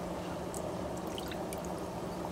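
About one and a half cups of water pour steadily into a pot for blanching spinach, a continuous close hiss and splash at even loudness with no talking.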